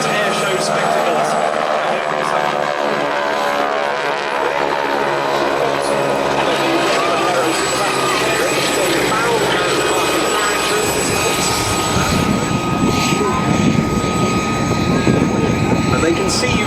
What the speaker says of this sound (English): Two 450 horsepower Boeing Stearman Model 75 cadets